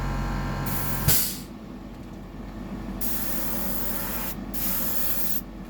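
An airbrush sprays paint onto a 100mm Sammy fishing lure in short hissing bursts: about three close, fairly loud sprays with brief pauses between them.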